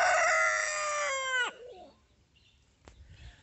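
A free-range capoeira rooster crows loudly and close by in one long drawn-out call that breaks off sharply, followed by a quiet pause, a single sharp knock and faint clucking.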